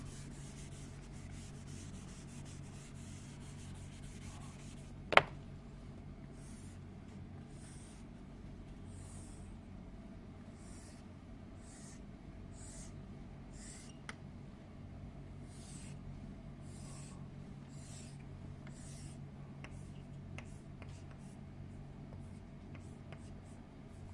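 Pen drawing a logic gate diagram during a digital electronics lecture, a steady faint scratching and rubbing of strokes with one sharp tap near the start, with no talk over it.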